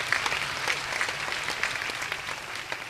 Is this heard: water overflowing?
no